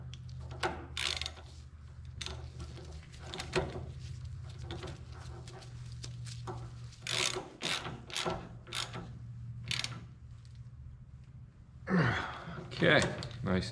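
A ratchet tightens the front spindle hub on a 1970 Minneapolis Moline U302 tractor, giving bursts of close clicking strokes separated by pauses, with heavy breathing and a low hum underneath.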